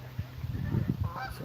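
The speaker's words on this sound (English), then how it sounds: "some geese taking off behind this tree." Geese honk repeatedly as they take off behind a tree near a creek, a quick run of overlapping calls at moderate distance over steady outdoor background noise.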